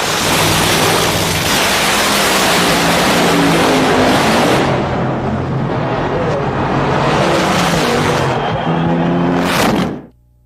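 A nitro funny car engine running on straight nitro roars extremely loud and close for several seconds during a dry hop, its crackling blare surging twice before cutting off abruptly near the end.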